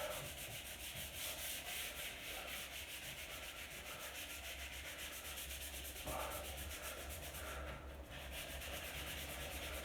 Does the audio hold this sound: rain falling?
no